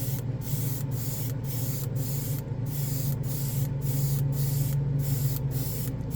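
Chrome spray paint hissing from an aerosol can onto a plastic scale model, a steady close spray broken by brief regular pauses between bursts.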